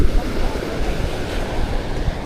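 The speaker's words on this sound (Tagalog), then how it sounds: "Malaki ang alon ngayon dito sa amin." Heavy surf roars in a dense, continuous wash of crashing water, mixed with gusty wind buffeting close by.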